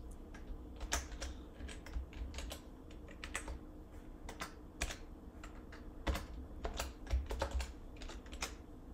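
Steady computer-keyboard typing as a name is entered, with clear separate keystrokes in quick irregular bursts, close and fairly loud, with no talking.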